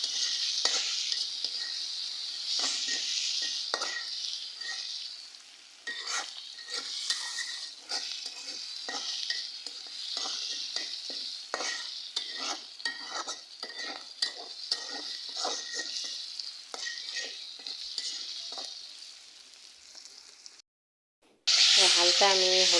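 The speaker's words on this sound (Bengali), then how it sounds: "আর এখানে আমি বসাই দেব ঢেঁড়স ভাজি। তো তার জন্য আমি পেঁয়াজ কাঁচামরিচ দিয়ে দিলাম।" Okra frying in a pan with onion and green chili: a bright, continuous sizzle with rapid stirring scrapes and clinks throughout, close and steady, ending in a brief gap and a sudden burst near the end.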